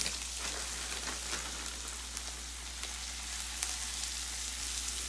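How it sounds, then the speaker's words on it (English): Cabbage sizzling steadily in a hot pan over a low fire, a continuous crackling hiss of frying with scattered sharp pops, close and fairly quiet, with no voices. "I'm gonna go ahead and I'm gonna add the cabbage that we prepared last night"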